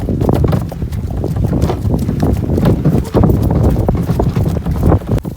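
Heavy draft horse hooves clop in a steady walking rhythm across fields, close and loud, over gusty wind buffeting.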